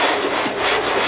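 Small metal lathe countershaft parts rubbed flat against an abrasive surface to remove burrs, a steady loud rasping scrape with a few back-and-forth strokes.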